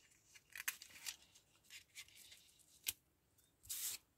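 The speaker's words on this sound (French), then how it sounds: "Je coupe une bonne longueur." Scissors snip through a length of craft material for a butterfly embellishment, a series of quiet close cuts at uneven intervals with a louder final snip, no talking.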